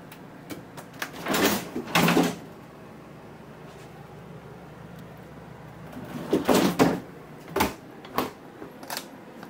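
Two large drawers beneath the stove of a 2024 Fleetwood Bounder 35K gas Class A RV slide open and shut, making two bursts of sharp clacks and rolling thumps separated by a quiet pause.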